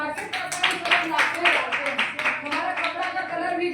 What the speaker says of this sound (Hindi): एक जोड़ा तालियां आपके लिए।